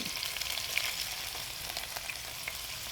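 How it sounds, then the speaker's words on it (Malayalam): Food fries in coconut oil in a pan, giving a steady, close hissing sizzle with occasional small pops, and no voices. "2 സ്റ്റെപ്പായിട്ട് വറുത്ത് വരേണ്ടി വരും"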